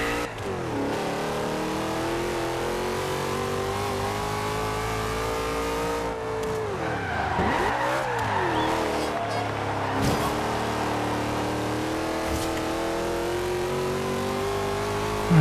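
Racing cars in the Forza Horizon 2 video game rev steadily with sustained engine drone, rising and falling in pitch midway with a brief swooping rev, loud and continuous without talk.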